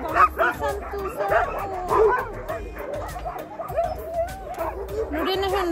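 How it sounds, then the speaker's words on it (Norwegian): An old sled dog in a dog yard yips, barks and whimpers in quick, restless bursts throughout, close by, with a person talking over it. "jeg skal vise dere min favoritthund i den gamle gården"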